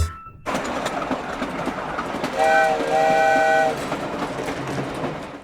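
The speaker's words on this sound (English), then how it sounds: "The vehicle hiding is a train!" A train rumbles past steadily, its clattering wheels joined midway by a loud, sustained two-tone whistle that sounds in two long blasts, with no voices present.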